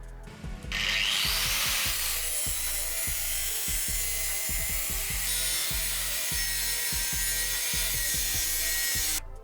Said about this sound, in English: I had to notch a little bit out of the firewall support just to be able to get this to fit.